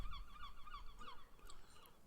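Seagulls roosting all around at a seaside spot, a dense chorus of honking, squawking calls overlapping continuously at moderate distance, fairly faint.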